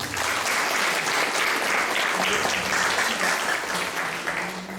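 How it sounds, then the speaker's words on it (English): Seated listeners clap for Carnatic singer Sangeetha Swaminathan after her introduction, a full, sustained round of applause that stays steady throughout and trails off slightly near the end. "Let us give her a big round of applause"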